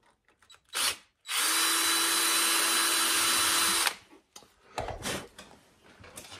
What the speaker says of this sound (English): And then the drill.